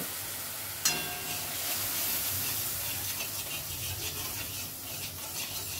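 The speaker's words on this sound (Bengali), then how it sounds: "সামান্য একটু জল দিয়ে মশলাটা কষিয়ে নেব।" Spice paste of Kashmiri chilli powder and salt sautéing in oil with a splash of water, a steady close sizzle and hiss with a sharp splash-like burst near the start, continuing evenly throughout.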